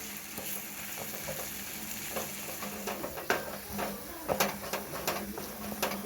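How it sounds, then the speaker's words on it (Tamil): Pirandai pickle fries in oil in a home kitchen while being stirred, with a steady sizzle and repeated scraping strokes of a spoon against the pan, close and continuous. "கொஞ்சம் கொஞ்சமாக எண்ணெய் ஊற்றி ஊற்றி அதை நல்லா கிண்டிக்கிட்டே இருக்கணும்"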